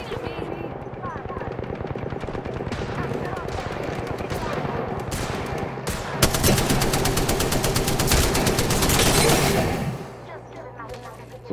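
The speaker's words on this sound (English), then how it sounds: "Oh, somebody just shot." Sustained bursts of rapid automatic gunfire in a battle royale video game, loud and dense, with a brief lull before a heavier, faster volley near the end, set over continuous game ambience and music.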